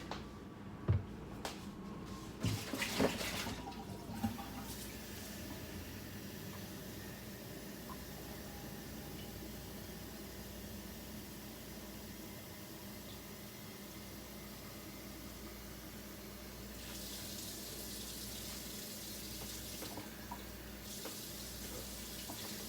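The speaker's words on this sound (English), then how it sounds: "And then we're going to add in our water." Tap water runs steadily into a pot for a beef stew, a continuous hiss that carries on for the whole stretch, with a few clatters and knocks near the start.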